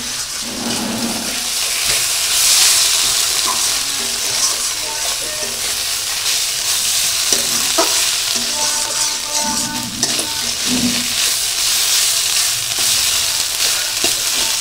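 Onions frying in oil in a pan for a soybean and egg curry, a steady loud sizzle with intermittent stirring scrapes running throughout, with no talking.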